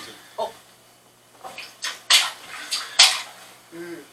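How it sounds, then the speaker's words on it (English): Several splashy sloshes of feet moving through shallow floodwater inside a house, irregular steps with quiet gaps between, close by. "Putting my feet directly in the water."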